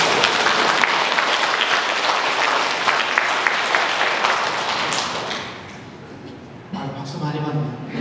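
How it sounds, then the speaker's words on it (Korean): Audience applause during a Lenten lecture at a Catholic church, dense and sustained for about five seconds before fading, followed by someone speaking. "박수 많이 받네요"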